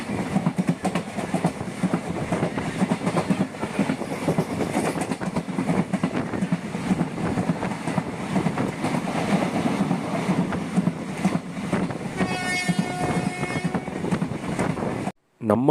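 A train rumbles and clatters steadily along the rails, heard from inside a carriage on the Coimbatore–Tiruchendur line, with a brief high tonal whine near the end before the sound cuts off.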